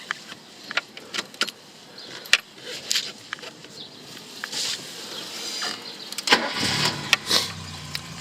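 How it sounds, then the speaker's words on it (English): A Ford Capri engine cranks and starts after a few jangles of keys and clicks, then catches and settles into a low, steady idle close by. "Car starts first time all the time."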